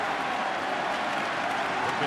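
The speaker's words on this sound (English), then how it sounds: "They've been cheering since 4 or 5 o'clock local time." Stadium crowd at NLCS Game 1, October 2012, keeping up a steady, dense roar of cheering and applause for the full stretch with no break, filling the air evenly.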